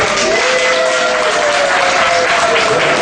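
Guests at an official wedding ceremony applaud loudly in a dense, continuous wash of clapping, with voices faintly audible within the crowd.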